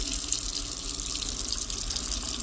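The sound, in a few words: hotel room sink tap running, testing water pressure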